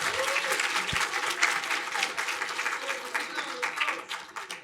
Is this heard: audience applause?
yes